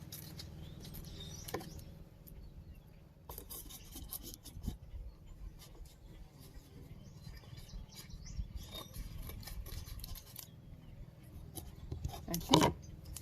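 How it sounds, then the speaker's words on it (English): Scissors trimming the dried ends of pressed plants hanging over a page: soft, raspy snipping and rubbing close by, steady and quiet throughout, with one sharper crunch near the end. "I'm just cutting the ends off at the top that are"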